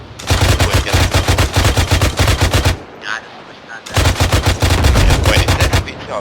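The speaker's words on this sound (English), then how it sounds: "I just killed someone up here blind firing with that machine gun." Sustained bursts of machine gun fire in the military shooter Arma 3, loud and close, firing in two long rapid strings split by a brief pause of about a second with quieter background sound.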